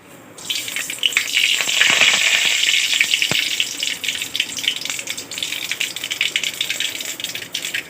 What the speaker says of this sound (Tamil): தேங்காய் எண்ணெய் ஊற்றி சூடு பண்ணி வச்சுருக்கேன் முதல்ல நம்ம கடுகு போட்டுடலாம்